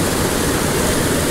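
Waterfall on the Appalachian Trail pouring in a loud, dense, unbroken roar of rushing water close by, with no voices.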